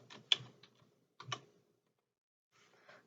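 Typing on a computer keyboard: a few quick bursts of soft keystroke clicks, close and quiet, separated by short pauses.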